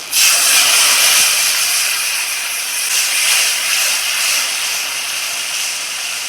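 Loud, continuous sizzling hiss as a little water hits hot fish-frying oil with nigella seeds, mustard and poppy seeds for a pomfret curry, bursting in sharply and holding steady.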